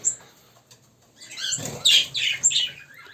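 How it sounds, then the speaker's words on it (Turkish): Goldfinch chicks in an aviary give short, high chirping calls in a few quick bursts, close by, with rustling and flapping around them. "Bu gelen ses Sakaların sesi"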